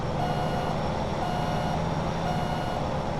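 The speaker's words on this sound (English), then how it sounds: "this is an alarm clock backup sound" A truck reversing alarm in American Truck Simulator beeps in a steady, even pulse over a constant engine drone, moderately loud and unbroken.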